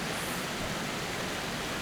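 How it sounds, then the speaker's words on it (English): A waterfall inside a cave makes a steady, dense roaring rush of water, broad and unbroken throughout, with no talking. "We're there at that waterfall."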